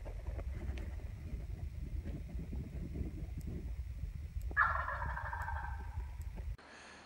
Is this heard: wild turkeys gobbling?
yes